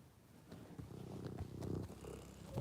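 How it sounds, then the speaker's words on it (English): A pet cat named Corn purrs softly and steadily up close, a low continuous rumble in a quiet room with no talking over it. "Oh, listen to that purring."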